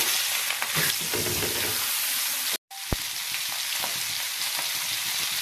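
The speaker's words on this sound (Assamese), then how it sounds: "এতিয়া মাছখিনি মই ইয়াতে এপিচ এপিচ কৰি ঢালি ভাজিম" Fish pieces fry in hot mustard oil on a griddle, giving a loud, dense, continuous sizzle up close, broken by a brief cut and a sharp clack partway through, with no voices.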